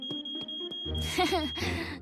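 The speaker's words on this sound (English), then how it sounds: "Oh, the smoke alarm." A smoke alarm in a cartoon sounds a high, piercing continuous electronic beep while a voice speaks over it, with a few sharp clicks beforehand.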